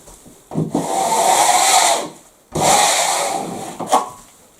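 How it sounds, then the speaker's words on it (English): Wide scraper dragged across a wall to strip old wallpaper paste, two long rasping scrapes of about a second and a half each, close and fairly loud, followed by a short scuff. "I've finished using that wide scraper to get the paste off."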